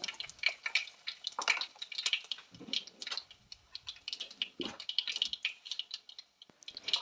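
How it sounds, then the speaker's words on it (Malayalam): Cumin seeds and dried red chillies spluttering in hot oil in a pan, close, with a busy crackle of small pops and a few brief stirring sounds. "ജീരകവും നല്ലതായിട്ടൊന്ന് പൊട്ടി വരട്ടെ"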